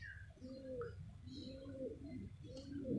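Domestic pigeons, a male and a female in poor condition with wing problems, coo in repeated low throaty phrases, three close rolling bursts over a continuous background murmur.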